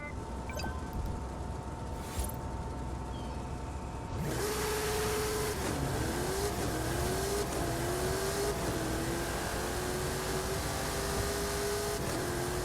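A racing car engine in a video game starts after a quiet idle, then roars into a loud acceleration with rising pitch sweeps through several gear shifts, steady and close, with no talking.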